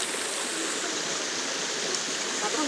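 A village river stream flows steadily and evenly, a dense continuous rush of water close by with no breaks and no talk.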